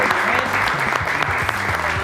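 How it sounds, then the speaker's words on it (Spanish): Applause from the audience at a talk on electromobility in Argentina, a brief dense burst of clapping with a low voice murmuring beneath it. "Le brindamos un fuerte aplauso"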